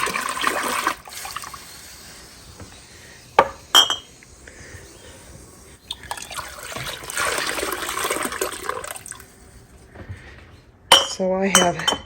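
Glass canning jars clink and knock together in a kitchen as they are set out for salsa verde, sharp bursts separated by running water and quieter handling noise.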